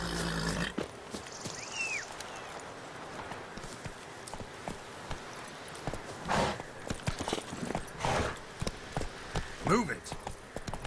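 Horse hooves clip-clopping on ground in the video game The Witcher 3, quiet and irregular amid rainy ambience, with occasional voices and a horse whinny breaking through.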